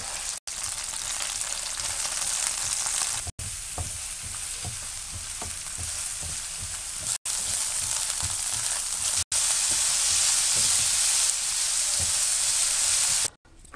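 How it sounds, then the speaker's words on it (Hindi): Chicken pieces fry in a pan until golden for a Pakistani chicken macaroni salad, giving a loud, steady sizzle and crackle with brief stir-like breaks, and no voices. "गोल्डन कलर आने तक चिकन को फ्राई करें अच्छी तरह से"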